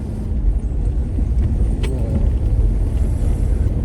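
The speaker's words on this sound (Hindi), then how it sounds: "ये टोटल चढ़ाई जो है पहले गियर में हम जा रहे हैं ऊपर, इतनी टफ है।" A 3400 cc jeep engine labours up a steep local mountain track in first gear, a deep continuous rumble heard close from inside the vehicle, with occasional rattles and no talking.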